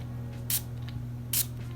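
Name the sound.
cologne atomizer spraying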